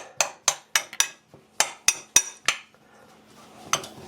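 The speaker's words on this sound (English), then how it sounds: "We're just going to kind of take our spoon here and chop this up a little bit." A metal spoon chops twice-baked potatoes in a dish for a potato casserole, giving about nine sharp, close clinks and taps in an uneven rhythm, with no talking.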